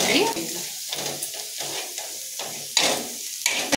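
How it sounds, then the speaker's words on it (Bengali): Oil sizzles steadily in a pan while ingredients are stirred, giving brief scraping bursts over a close, continuous frying hiss. "একটু তেলে ভেজে নেব।"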